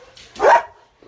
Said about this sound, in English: I don't even know what they're barking at